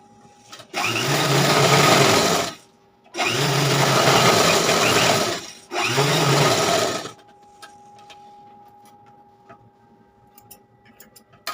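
Sewing machine stitching blouse fabric in three loud, close bursts of about two seconds each with short gaps, then stopping, leaving a faint hum and a few light ticks.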